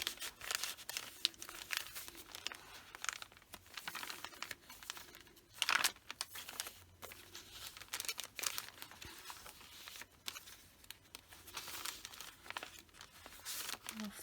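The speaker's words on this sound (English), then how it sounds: "Paper bag with some scraps. Paper in there." Soft, intermittent crinkling and rustling of a paper bag holding paper scraps as it is handled up close, quiet overall with a few sharper crunches scattered through.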